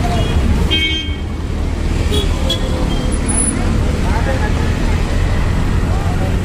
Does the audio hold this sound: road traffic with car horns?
yes